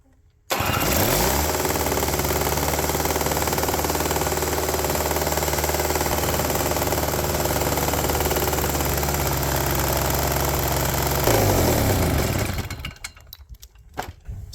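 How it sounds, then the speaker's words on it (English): A Toro S-200 snowblower engine, an old curbside machine, runs loud and steady with a rough, knocking clatter for about twelve seconds, then cuts out and sputters down to quiet. "Starting to think that the engine's running completely fine, and the obnoxious clapping noise is in here."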